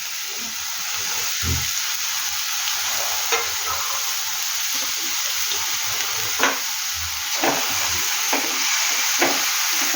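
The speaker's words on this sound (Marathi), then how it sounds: "सगळी भाजी टाकते त्यात आणि चांगली परतवून घेणार आहे" Moringa leaf vegetable stir-fried in a pan, giving a steady loud sizzle with repeated scraping and stirring knocks from the spatula at irregular intervals, no talk.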